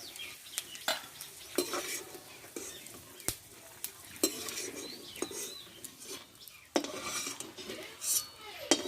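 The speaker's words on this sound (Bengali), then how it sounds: "এই বাদামটা আমি ভেজে নেব" Peanuts frying in oil in a home kitchen, a soft steady sizzle broken by repeated sharp clinks and scrapes of a spoon stirring against the pan, close and fairly quiet with no talking.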